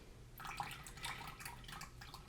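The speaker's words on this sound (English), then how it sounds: "you could just let some of it drip out. So we could see if any drips out like such" A soaked wet palette sponge lets water drip out, a quiet run of irregular small drips and trickles over a low, hushed background.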